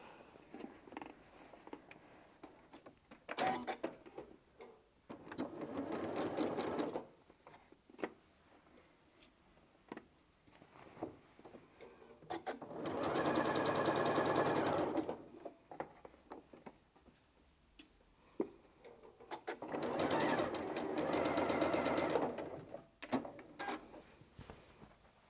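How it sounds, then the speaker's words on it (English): Home sewing machine stitching quilt binding in three bursts of rapid, even needle rattling, quiet and close, separated by soft handling clicks and rustling of fabric. "We're going to sew that with 1/4 inch."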